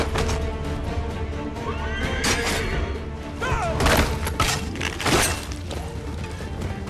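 A horse in the video game Assassin's Creed 3 neighs with a loud, wavering whinny, with hoof clops and dense game sound effects around it and no talk over it.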